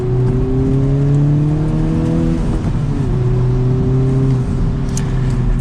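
A 2021 Honda Civic Type R with its turbocharged engine pulls steadily while driving, giving a loud, continuous drone whose pitch climbs and dips briefly near the middle, with faint road and wind noise and no talking.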